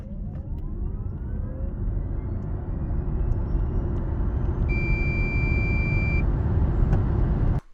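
Kia EV6 GT-Line AWD electric car accelerating hard to 100 km/h, a steady, loud road and tyre rumble with a rising whine building throughout, and a brief electronic tone midway before it ends abruptly.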